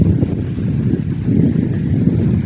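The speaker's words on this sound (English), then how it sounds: "It's a little windy" Steady low wind buffets the microphone at a waterside dock, a continuous rumbling roar with no break across the short stretch.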